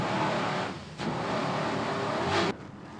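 Onboard a Miccosukee Indian Gaming racing powerboat at the 2003 APBA Savannah race, the engines roar loudly and close, dropping sharply near the end as the throttles are pulled back.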